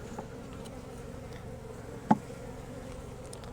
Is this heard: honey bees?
yes